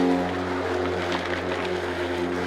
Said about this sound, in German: durch die Eco-Funktion schaltet der Motor hoch oder, jetzt hört man es, wieder runter.